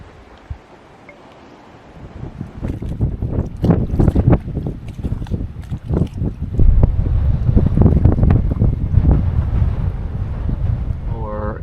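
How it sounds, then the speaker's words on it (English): Gale-force wind, steady 20 to 25 knots gusting into the 30s, buffets the microphone on a sailboat in heavy, roaring gusts on open water, rising after a quieter start and staying loud throughout. "Into gale gusts now, probably steady 20 to 25 knots, and then gusting into the 30s for sure."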